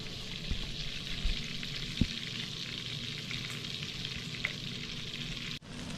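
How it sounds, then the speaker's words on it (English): Floured morel mushrooms fry in melted butter in a pan, giving a steady, close sizzle with a few soft bumps and clicks as pieces are set down, and a sharp drop near the end. "We got our plate full of floured morels. And we're just going to place those in the pan."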